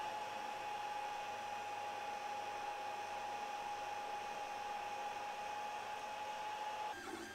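A Creality Ender 3 3D printer with a silent 1.1.5 mainboard runs its homing sequence as a steady, soft whirring hum with a faint constant whine. The sound is unbroken and fairly quiet, and shifts slightly at the very end.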